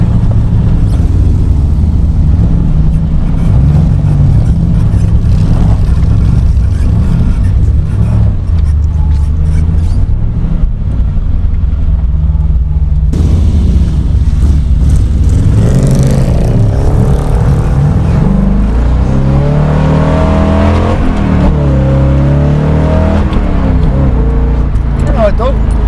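1967 Corvette fitted with a Tremec TKX manual gearbox, its engine running loud and close with a steady idle rumble that rises into revs toward the end, while people talk over it.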